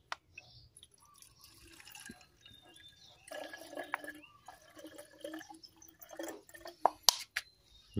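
Homemade plant-safe insect repellent liquid poured into a plastic bottle, a soft close trickle with drips and small splashes and a few light clinks, faint and intermittent.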